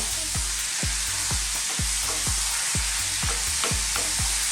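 Fresh tomatoes get mixed into a sizzling mushroom and pea curry, a steady loud frying hiss broken by rhythmic scraping strokes of a spoon against the pan, roughly nine stirs in a row.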